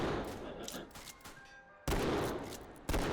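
Gunshots in the VR shooter Hot Dogs, Horseshoes & Hand Grenades, set in a Wild West town: two sharp, loud shots about a second apart that break a quieter stretch of ambient noise.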